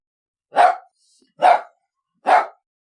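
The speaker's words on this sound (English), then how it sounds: "D for dog." A dog barks three times in a clean, evenly spaced sequence, each bark short and fairly loud against silence, with no other sounds around it.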